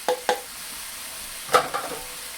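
Garlic and onion in a stir-fry pan, a faint steady sizzle under a few sharp scraping and clattering strokes of stirring, two near the start and a cluster shortly after the middle.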